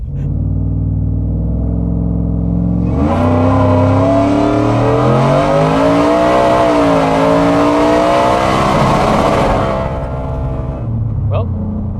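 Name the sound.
870 hp 4WD F150 truck accelerating to rev limiter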